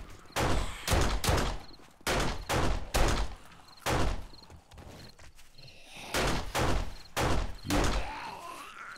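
Gunfire in the survival video game 7 Days to Die: a rapid series of loud, close shots in irregular bursts, about a dozen blasts with brief pauses between groups.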